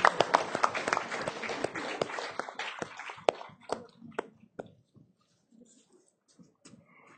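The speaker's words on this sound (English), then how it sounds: "A huge round of applause, ladies and gentlemen." Applause from a crowd at a leadership conclave and awards event swells at first, then thins into scattered claps that fade out, with a faint voice in the room.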